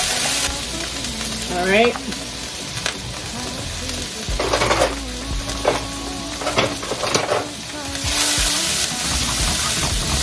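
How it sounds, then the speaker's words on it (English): Ginger and garlic sizzle and fry steadily in a hot pan for an Asian-inspired meal, with close stirring scrapes and occasional utensil clatter; a voice speaks briefly over the cooking. "I'm just letting the ginger cook. And I'm going to add about a good tablespoon of garlic."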